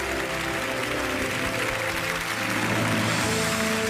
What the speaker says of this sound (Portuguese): Aplaudida de pé pela nossa plateia